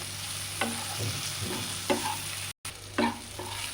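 Red chili and cumin powder sizzle gently in a kadai, with a low, steady hiss and three or four distinct scraping strokes of a spatula, and a brief dropout near the middle.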